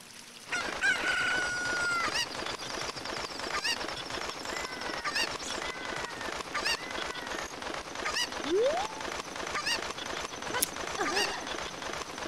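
Chicken clucking and squawking in Ocarina of Time, a busy game soundscape with repeated short fowl calls over steady background music and effects throughout.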